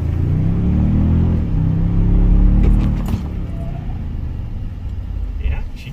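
A 2023 Toyota Sequoia Platinum heard from inside the cabin as it accelerates, a loud low engine rumble swelling then settling, with people talking over it.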